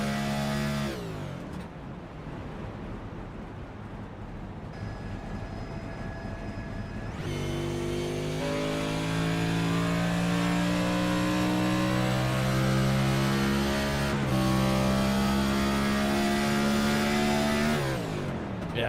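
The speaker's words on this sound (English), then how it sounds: "That car barely at idle in the middle of the corner." A stock race car engine at the Gateway 150 holds a low, steady, near-idle drone mid-corner to save fuel, heard on board, then rises slightly into a louder, fuller hum that stays constant to the end.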